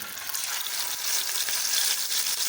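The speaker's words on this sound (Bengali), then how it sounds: "এবার মশলা মাখানো পনিরগুলোকে দিয়ে দেব।" Marinated paneer drops into hot oil with dry red chillies, cinnamon and cumin, giving a close, steady, bright sizzle that swells slightly and holds without break, with no talk.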